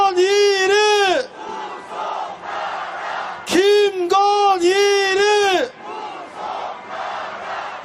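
At a candlelight protest march, a crowd chants 'arrest' in loud repeated two-beat bursts led by an amplified voice, with short gaps of crowd noise between rounds.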